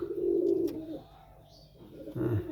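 Pigeons coo close by in soft, low, throaty bursts: one rolling coo, a quieter pause, then another coo starting near the end.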